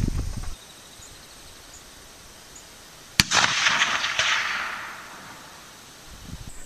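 A single 30-30 rifle fires at target practice toward an 8-inch target 250 yards out. It makes one sharp, loud crack, followed by a long rolling echo that fades outdoors, with quiet before and after.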